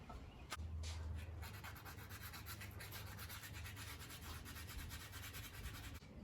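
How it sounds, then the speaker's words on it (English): Steady back-and-forth sanding scrapes across the high spots of an engine part for an AWD del Sol motor, a continuous close rasp with a rhythmic stroke, no talking. "So basically I'm trying to go through and sand all the high spots off of this"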